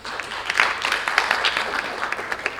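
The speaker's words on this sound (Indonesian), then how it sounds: "Tepuk tangan buat Bang Aris." Steady, dense applause from an audience at a children's protection book and song launch event, loud and continuous throughout with no talking over it.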